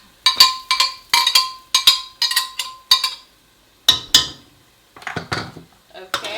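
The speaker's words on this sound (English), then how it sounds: "Just gonna get all the pepper out of the blender." A spoon scrapes and knocks blended pepper from a blender jar into a pot for Nigerian efo elegusi spinach soup: sharp, bright metallic clanks in quick bursts of two or three, with brief pauses between.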